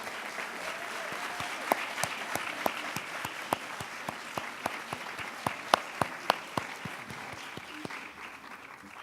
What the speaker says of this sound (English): please help me in giving a huge round of applause for Ms. Maulette Abera